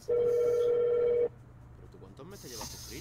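A Windows Live Messenger call tone: one steady electronic beep held for about a second, followed by a person talking.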